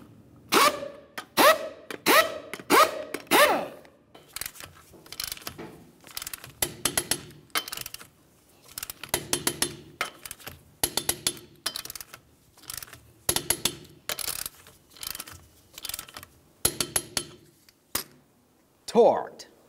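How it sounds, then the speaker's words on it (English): Clicking ratchet-type mechanical bursts from a torque wrench tightening front wheel lug nuts on a 2010-2013 Ford Transit Connect, arriving as repeated close rapid clusters with pauses between, then a final click. "We'll get the wheel safely back on the ground and then torque them to 100 foot-pounds."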